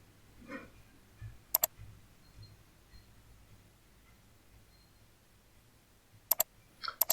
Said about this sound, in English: click on next and then click on OK.